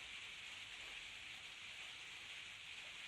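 Rain falls outside as a faint, steady hiss that keeps an even, unbroken wash throughout, with no voices or other sounds.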